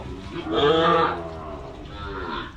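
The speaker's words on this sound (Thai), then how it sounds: "นี่วัวสาว" A young heifer at a cattle sale moos loudly and close by in one long, drawn-out bellow that swells, fades, then rises again slightly before ending.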